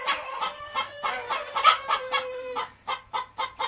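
Brahma hens and roosters cluck in a rhythmic series of short, repeated calls, close and clear, with a drawn-out tone running beneath the middle before the clucks thin out into separate bursts.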